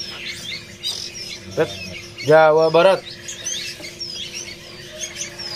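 Caged pentet shrikes at a bird-market kiosk give short chirps and a louder burst of squawking calls up close, between bits of someone talking amid light background bustle.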